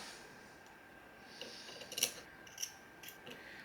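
Scissors make a few small, quiet snips while cutting little triangular notches into a part of a Boro bridge RBA, a soft crisp click standing out near the middle of an otherwise hushed moment.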